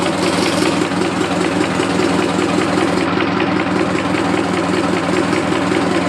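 Car engine idling with a knock, a close, steady low rumble carrying a fast, regular ticking pulse that continues unchanged throughout, with no talk.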